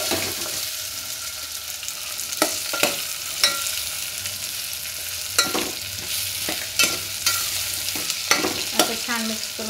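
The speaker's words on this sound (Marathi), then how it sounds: "आणि या मिक्सरला असं मिक्स करू" A spoon stirs sliced potatoes with turmeric in a frying pan for dal khichda, giving repeated scraping clatters at an uneven rhythm over a steady close sizzle, with no voices.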